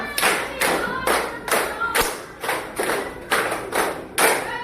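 Children clap a five-beat pattern twice in a row, about ten loud, close claps in steady groups, with a soft thump in between.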